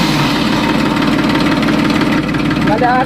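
A tractor engine idles loudly and close by, a steady low rumbling throb, with voices talking over it.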